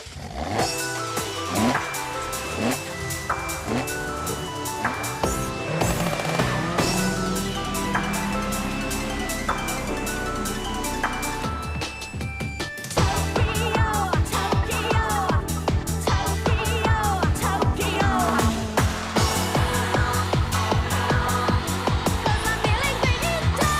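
A car engine in Gran Turismo on the PSP revs hard in third gear while drifting, a continuous loud racing whine that climbs and shifts pitch over music-like steady tones, with no talk.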